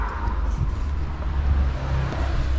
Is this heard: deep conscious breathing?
no